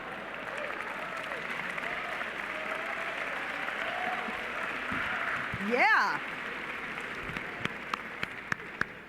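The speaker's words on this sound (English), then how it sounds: "That definitely deserves a round of applause." Applause from a crowd at an MBA commencement ceremony at Berkeley Haas, a broad steady clapping wash filling the hall, with a brief voice and a few sharper claps near the end.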